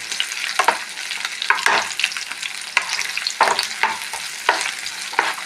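Shallots and chilies frying in a pan for a shallot-chili chutney give a continuous close sizzle, with frequent scraping stir strokes and spatula knocks coming at an irregular rhythm.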